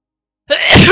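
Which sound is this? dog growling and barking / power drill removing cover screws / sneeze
sneeze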